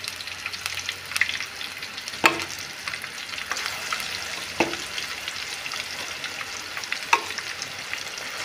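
Chicken sizzles steadily in hot oil in a pan, a close, continuous crackling fry broken by a few sharper spits and pops.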